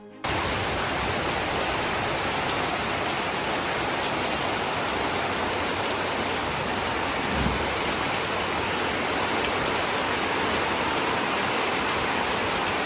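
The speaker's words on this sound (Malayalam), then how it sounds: "വീട്ടിൽ വന്നപ്പോഴും ഗംഭീര മഴ." Heavy rain pours down steadily near a house, a dense, unbroken hiss of water that stays loud and even throughout with no voices.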